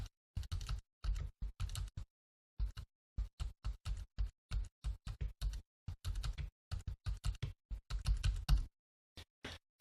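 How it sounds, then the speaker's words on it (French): Bursts of keypresses on a Focus braille display's Perkins-style braille keyboard with a metal frame, crisp clicks grouped in short clusters separated by brief pauses, close and fairly quiet, with no speech. "Si je tape maintenant sur le clavier"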